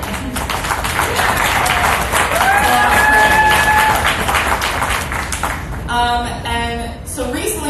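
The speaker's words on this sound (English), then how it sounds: "also a round of applause to all the GMG union members who quit Deadspin" A comics organizing event audience claps and cheers, a steady loud wash of applause with some whooping, thinning toward the end as other sounds and voices come through.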